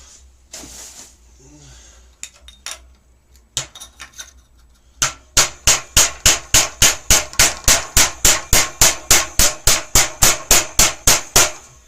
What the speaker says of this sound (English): So I'm just going to get a hammer on that.